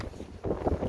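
Wind buffets a microphone at an outdoor crochet market stall, a low rumbling gusty roar that swells louder partway through the short moment.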